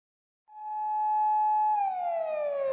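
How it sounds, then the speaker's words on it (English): A single siren tone from a police car in the Chaos;Child video game rises steadily, holding a high pitch before beginning to slide downward, clear and sustained with no talking. "We could hear the sound of police sirens in the distance."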